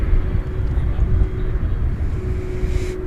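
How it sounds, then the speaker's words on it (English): Airliner at DFW Airport at night, a steady broad roar with a low droning engine hum and a faint sustained tone throughout, fairly loud and close, with no one speaking. "Beautiful looking airplane from the 20th century."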